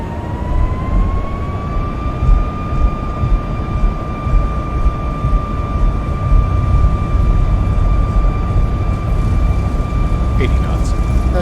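Airliner engines spool up to takeoff thrust in the X-Plane 11 flight simulator, a loud continuous roar with a turbine whine climbing steadily in pitch before leveling off and holding.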